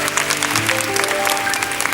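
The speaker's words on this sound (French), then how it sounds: "on t'applaudit très très fort, c'est un très bon score." 1977 French TV studio audience on a children's talent show claps hard for a contestant's score, a short, dense burst of applause heard close up.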